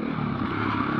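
A Husqvarna FE501 dirt bike ridden off-road, its engine droning loud and steady with a rough, rattling edge throughout the brief moment.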